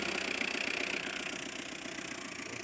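A Tata diesel engine idles smoothly with a steady, even chug and a constant mechanical hum, heard close up and alone at moderate volume.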